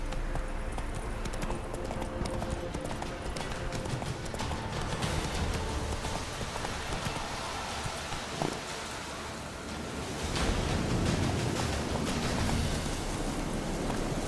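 Roach, the horse in The Witcher 3 on PS4, gallops with steady, close clip-clopping hooves that carry on throughout over a rushing outdoor wind-like background.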